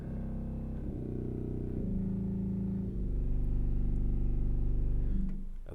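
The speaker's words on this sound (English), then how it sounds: "This is the contra trombone and contra waldhorn." Deep, buzzy reed tones from a church pipe organ's contra trombone and contra waldhorn pedal stops hold low sustained notes, shifting pitch every second or two and growing louder toward the end.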